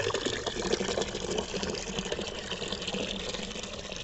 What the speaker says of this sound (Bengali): ফুল গাছগুলোতে জল দেবো